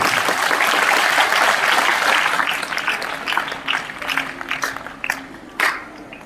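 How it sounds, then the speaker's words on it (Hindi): A crowd applauds loudly at a school Diwali celebration, the clapping gradually thinning out into scattered claps and a few cheers. "सभी लोग उनको तालियों से बधाई दें, धन्यवाद दें"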